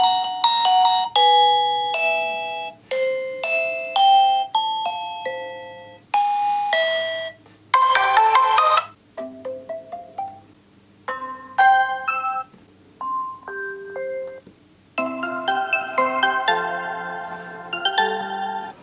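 A smartphone speaker plays a series of Reolink Battery Doorbell alert tones one after another: chimes, ding-dongs, ringtone-like melodies and beeps, each separated by short pauses, with no talking.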